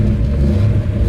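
A 1966 Ford Mustang GT Fastback engine revs steadily up close, a loud, continuous low-pitched rumble with no talk over it.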